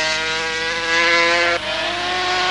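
500cc Grand Prix racing motorcycles, including a factory Honda, screaming past at Mugello in 1982: a loud, sustained high-revving two-stroke engine wail with a brief dip in pitch as it shifts, steady and close.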